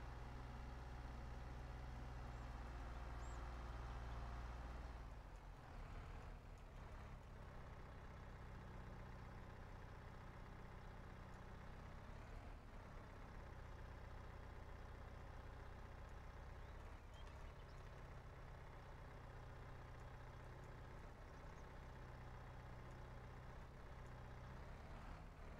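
A skid steer engine idles in Farming Simulator 22 on a farm during a soybean harvest, giving a steady low diesel rumble. A louder, deeper burst opens the clip, then the engine settles into an even drone.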